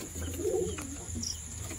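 A pigeon coos softly inside a closed loft, a low, quiet murmur over faint background hum, with a short higher chirp near the end.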